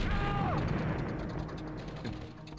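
Battle sounds from the Commandos 2 war video game: a dense, loud, continuous wash of gunfire with a heavy tank-shell blast, rumbling throughout the short stretch with no clear gaps.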